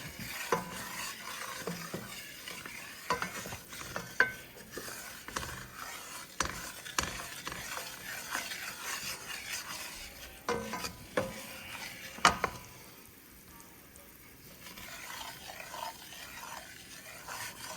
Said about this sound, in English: Now it's really starting to brown. Keep stirring it.